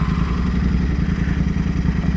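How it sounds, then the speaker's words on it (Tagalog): Royal Enfield Interceptor 650 motorcycle engine runs steadily at close range, a low, rhythmic thudding idle with constant mechanical clatter and no talk. "Sound check, Royal Enfield Interceptor 650."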